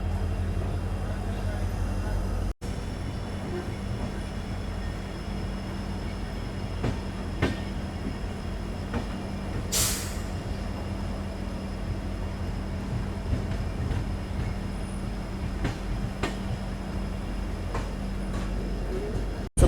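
Steady rumble and clatter of a Vistadome coach train rolling along after leaving Kabaka Puttur, heard from inside the carriage, with faint squeals and knocks over a continuous low roar.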